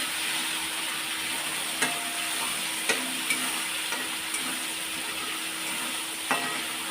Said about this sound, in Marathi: ती छान अशी परतून घ्यायची तेल सुटेपर्यंत